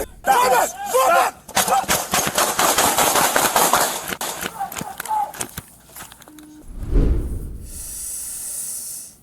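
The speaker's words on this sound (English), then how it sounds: "Shots fired." Gunshots go off at a McDonald's drive-through in a quick, loud, cracking burst mixed with frantic shouting, followed by a deep booming thud and then a fading ringing tone.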